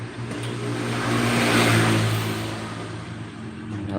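A Bison motorcycle engine runs roughly up close with a faint ticking from a worn clutch housing, steady and loud with a slight rise in revs midway.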